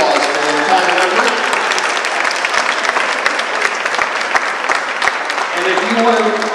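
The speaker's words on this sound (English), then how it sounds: "let's give these ladies and gentlemen a giant round of applause for their time and effort." Applause from the crowd at a holiday tree lighting ceremony, loud and sustained for several seconds, a dense wash of many hands clapping close by with occasional cheers.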